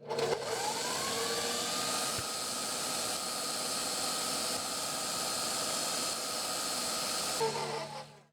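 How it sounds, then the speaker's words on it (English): An electric mixer whips sweetener and oil for a keto carrot cake, a steady close whirring hum that runs continuously for several seconds before cutting off near the end. "you can have your sweetener and oil whipping"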